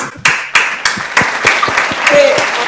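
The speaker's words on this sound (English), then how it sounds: "Let's give him a round of applause." An audience claps for a young speaker named Isaac at a speech event in Singapore, a loud, close ovation of sharp, separate claps that thickens into steadier applause.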